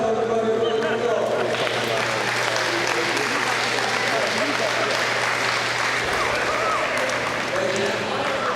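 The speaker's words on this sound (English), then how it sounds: "Give her a round of applause, everybody." Steady audience applause fills the room throughout, a continuous wash of clapping with voices faintly audible beneath it.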